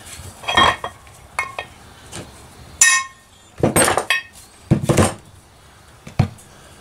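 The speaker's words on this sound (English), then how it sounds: "I'm just going to use this big socket, see if I can pop it out of here. Shouldn't take too much to drive it out." A big socket is hammered to drive a part out of a Kohler KT17 engine. It gives several sharp, close metallic strikes at uneven intervals, some in quick pairs, with quiet gaps between them.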